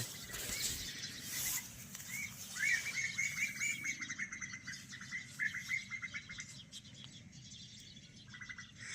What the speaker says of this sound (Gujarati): હવે તમે સાંભળજો ખાલી ચકલીઓનો અવાજ બહુ જ કરે છે